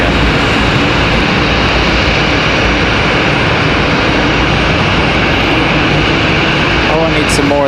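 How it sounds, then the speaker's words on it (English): An Airbus A319 jet airliner from Philadelphia roars past at Raleigh Durham airport, a loud steady broadband engine rush filling the whole stretch, with a brief faint voice near the end. "this A319 from Philadelphia"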